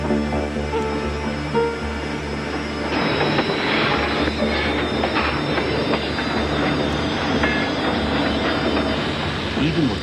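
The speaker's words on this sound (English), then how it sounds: "Even with the brakes on, the weight of the 250-ton train carried it more than 100 feet past where the boys were playing on the tracks." A 250-ton Conrail train with a wide front snow plow brakes along the tracks, a heavy continuous rumble with rising metallic wheel squeal and rattling clatter from the cars.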